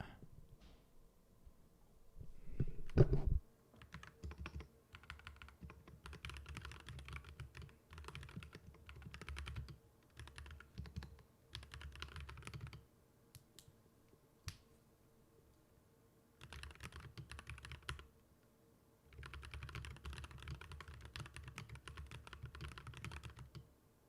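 Computer keyboard typing in bursts of rapid, close clicking separated by short pauses, with one louder knock early on and no talking.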